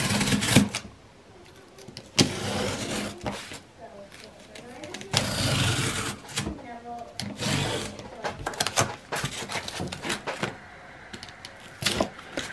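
A knife slices through cardboard along a ruler in a series of short, sharp scraping strokes with pauses between them, close and fairly loud.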